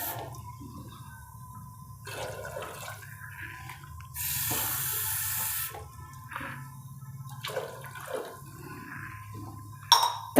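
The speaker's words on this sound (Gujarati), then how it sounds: "આપણે અત્યારે 3 ગ્લાસ પાણી નાખશું." Water poured from a glass into a cooking pot for Rajwadi khichdi in a home kitchen: a steady splashing burst of about a second and a half, with lighter trickles and drips around it. No one speaks.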